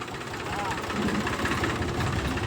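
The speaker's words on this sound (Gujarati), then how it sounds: "વાહ ભાઈ જૂના જમાનાનું ટ્રેક્ટર છે" An old tractor engine chugs steadily at close range, a low rumbling knock under some indistinct talk.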